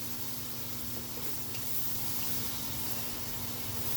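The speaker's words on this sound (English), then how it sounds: "I'll go ahead and mix it in with the onions and the bacon." Garlic frying in a pan with onions and bacon in bacon grease and olive oil makes a soft, steady sizzling hiss that stays low and constant, with nobody talking.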